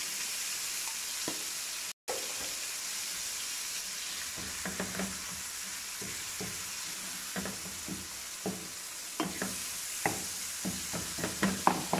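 Mashed potato bhurta frying in ghee in a pan, a steady loud sizzle running throughout with soft scrapes and spoon taps that grow more frequent toward the end, with no talking.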